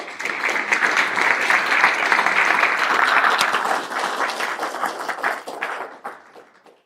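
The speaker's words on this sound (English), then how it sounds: "Give him a big applause." A conference crowd at ABAPConf 2025 in Mannheim bursts into dense, sustained applause, loud and steady for several seconds before tapering into scattered claps.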